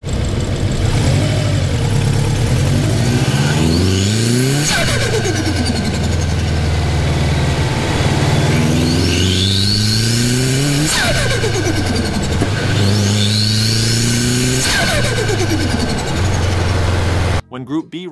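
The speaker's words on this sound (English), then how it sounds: "Take a listen to the insane turbo spool and flutter of this Subaru WRX STI." Subaru WRX STI engine revving with turbo spool, rising and falling whines in repeated surges with fluttering chatter between them, loud and close, cut off abruptly near the end.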